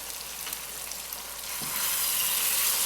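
Chicken tikka karahi with kasuri methi and chaat masala frying in a pan, a steady close sizzle that swells louder partway through, with a brief clatter near the middle and no talking.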